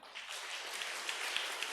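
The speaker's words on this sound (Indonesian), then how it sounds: "kita berikan tepuk tangan" A standing church congregation at a Mother's Day service claps briefly; the applause is faint and distant, a soft wash of many hands.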